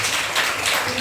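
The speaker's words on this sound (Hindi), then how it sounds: "शाबाश, जोरदार ताली बजाइए" Schoolchildren in a classroom clap together as a burst of praise, a brief, dense patter of many hands.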